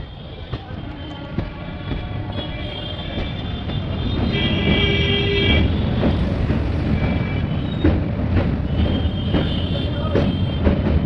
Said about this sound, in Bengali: ট্রেন এখন কিউল নদী পার করছে।